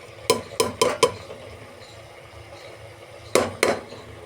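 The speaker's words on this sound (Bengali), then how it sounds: "দিয়ে আমি এটাকে নেড়ে নেবো যতক্ষণ না কালারটা চেঞ্জ হচ্ছে।" Spices being stirred in a cooking pot to change their color, heard as a few quick scraping clinks of a utensil against the pot in two short bursts, fairly close over a low background hum.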